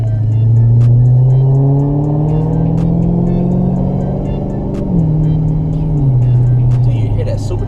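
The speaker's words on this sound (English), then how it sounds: "Do you hear that supercharger?" A Dodge Charger SRT Hellcat's supercharged engine drones steadily while driving, a loud continuous rising and falling whine over low rumble, close and sustained throughout.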